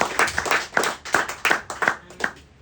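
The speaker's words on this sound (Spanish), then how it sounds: "denle otro aplauso al Señor" A church congregation claps in worship, with distinct rhythmic hand claps in loose unison, fairly close and strong, easing off toward the end.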